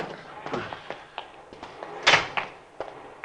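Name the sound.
car door being forced open, radio drama effect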